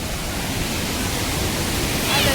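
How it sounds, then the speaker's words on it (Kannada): A waterfall near Mullayanagiri peak in Chikkamagaluru, water rushing down with full force, producing a loud, dense, unbroken roar up close. "ಅದೆಲ್ಲ ಫುಲ್ ನೀರು ಹೋಗ್ತಾ ಇದೆ, ಫುಲ್ ಫೋರ್ಸ್ ಇದೆ"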